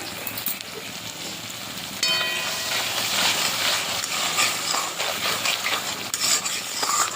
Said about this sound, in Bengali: এটা একটু ভালো করে কষাতে হবে